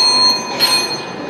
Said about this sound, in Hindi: पहली घंटी 3 मिनट पर चेतावनी के लिए बजेगी।